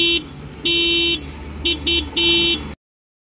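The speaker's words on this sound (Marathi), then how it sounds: "हॉर्न ऐकूया गाडीचा कसा येतो." A TVS Jupiter 125 BS6 scooter horn sounds in several short beeps, one long and a few quick ones in a row, loud and close, with no talking.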